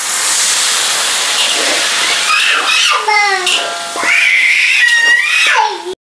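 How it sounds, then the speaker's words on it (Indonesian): Water is poured into a hot pot of fried chicken for chicken soup, giving a loud, steady sizzling hiss with rising bubbling and gurgling tones before it cuts off abruptly. "Ini saya masukkan air."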